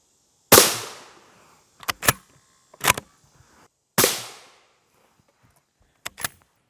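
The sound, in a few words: M855 rifle rounds fired at armor plate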